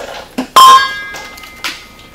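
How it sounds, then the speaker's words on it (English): Rubber mallet tapping on the rear axle hub of a Polaris RZR 800 during axle replacement: a few sharp, close knocks with brief ringing metallic overtones, one louder strike in the middle, heard alone without talk. "I use a rubber mallet. Just tap it a little if it needs to be."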